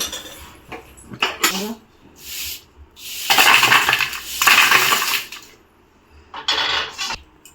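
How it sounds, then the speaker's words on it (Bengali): A wok lid lifts and jackfruit seeds are scooped out with a metal utensil: close clanks and scrapes against metal come in bursts, with rattling and clatter between quieter pauses and no talking. "ঢাকনাটা তুলে নেব দেখো ভাজতে ভাজতে সেদ্ধ হয়ে গেছে"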